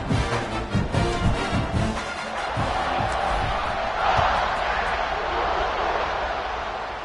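Home crowd in a football video game at kickoff, a broad roar of cheering and shouting that swells midway, with thumps early on and a commentator speaking over it.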